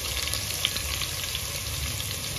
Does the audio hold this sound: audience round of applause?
no